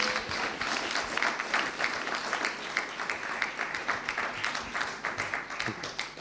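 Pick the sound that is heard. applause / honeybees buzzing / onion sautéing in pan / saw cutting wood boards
applause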